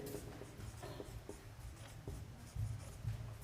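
Pen strokes scratching on paper while working a class 10 arithmetic progression problem, a run of soft, quick writing scratches close by with no talk.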